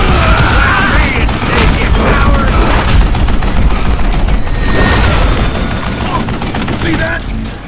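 Loud, dense gunfire and booming impacts fill a Call of Juarez Gunslinger shootout, with voices shouting over the continuous clatter.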